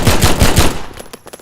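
Rapid bursts of automatic gunfire in a video game, four or five sharp closely spaced shots followed by fainter trailing pops as the firing dies away.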